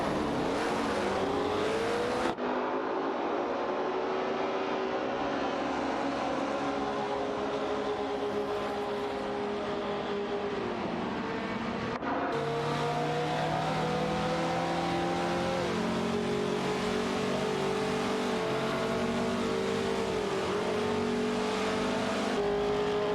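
Race cars lapping in an AI racing game, engines droning and revving continuously with shifting pitch as they corner, loud and unbroken, with a sudden cut to another car's engine partway through and no voices.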